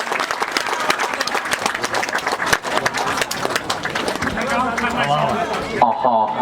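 A crowd at the inauguration of a village sports match claps loudly and continuously, a dense outdoor burst of applause that fades near the end, with voices mixed in.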